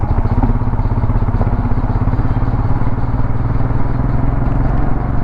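A Royal Enfield Himalayan 411 motorcycle rides along a highway, its loud, steady engine thumping with a rhythmic low pulse under wind and road roar, with no talk.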